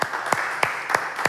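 A church congregation claps in a steady rhythmic beat, evenly spaced sharp claps about three per second over a full-room wash of sound.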